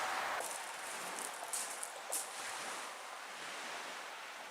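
Waves washing onto the Lake Superior shore in a steady broad surf hiss, with wind noise buffeting the microphone and occasional sharper splashes.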